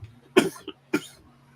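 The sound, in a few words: coughing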